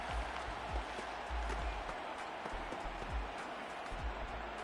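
Home crowd at a football game giving scattered cheers and applause, a broad noisy roar at moderate distance with faint rhythmic thumps underneath.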